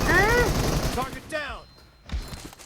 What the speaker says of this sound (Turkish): Ama çok iyi vurdum bu arada Sasuke.